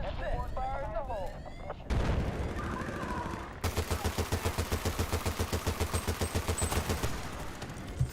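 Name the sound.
heavy machine gun fire in Battlefield Bad Company 2 video game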